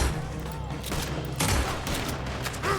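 Volcanic pistol shots in Red Dead Redemption 2 played in VR mode, several sharp loud cracks in quick uneven succession amid a busy game gunfight with other gunfire and booms around them.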